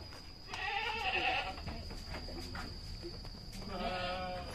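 Boer crossbreed goats at a breeding pen bleat twice, a call near the start and another near the end, over a steady hum and faint background noise, with no clear talk.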